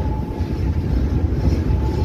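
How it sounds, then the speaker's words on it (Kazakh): A TEP33A diesel locomotive hauling a Turkistan–Pavlodar express passenger train gives a steady, deep engine rumble with a faint sustained tone, constant and fairly loud, with no voices. "Мынау біздің сүйікті тепловозымыз ТЭП 33А. Дауысы деген жер жырады ғой"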